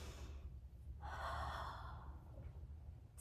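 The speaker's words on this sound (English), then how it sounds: "Breathe in and out" A single audible breath during a Pilates flow exercise, a close breathy inhale rising and easing off against a low, quiet background hum.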